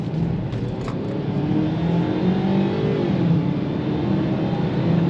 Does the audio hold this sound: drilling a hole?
no